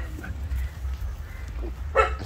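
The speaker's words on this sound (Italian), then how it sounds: "Sono praticamente circondato da cani." Dogs at a dog temple in Arambol, Goa give a few soft barks and whimpers, fairly close, over low background rumble, with one sharper yip near the end.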